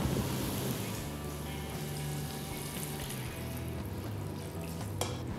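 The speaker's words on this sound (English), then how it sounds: "And I will cover it with my lamb stock." Lamb stock pours into a pot of Moroccan spiced lamb curry in a steady, continuous liquid gush with faint sizzling beneath, close and unbroken, with no talking.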